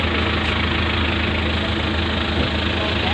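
An Eicher 380 tractor engine idling, a steady, loud, continuous low rumble with an even texture throughout, with no pauses.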